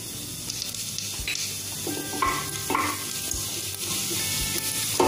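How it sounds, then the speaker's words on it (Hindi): Cumin seeds sizzle in three tablespoons of hot oil for Punjabi rajma masala, a steady close hiss broken by a few soft clinks and stirring scrapes of a spoon against the pan. "तो यहाँ पे मैंने 3 बड़े टेबलस्पून ऑयल डाला है। अब इसमें मैं सबसे पहले 1 टेबलस्पून ये जीरा डाल दूंगी।"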